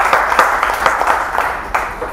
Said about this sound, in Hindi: श्री साहित्य सरगम का एक बार आप सब तालियां बजा दीजिए